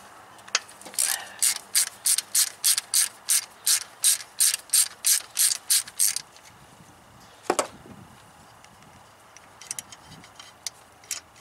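A ratchet fitted with a deep well socket loosens a nut on a Chevy small block throttle body injection unit, clicking in a fast, even run of about fifteen pawl ticks, followed by a few scattered clanks of the tool.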